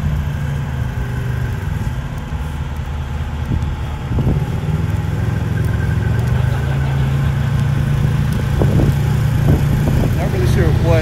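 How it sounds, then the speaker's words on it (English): Kenworth semi truck at a Jake Brake contest at a truck show, its big diesel rumbling loud and steady nearby, swelling slightly toward the end, with voices faintly mixed in. "Again, we got another one of the all-stars from the Jake Brake contest"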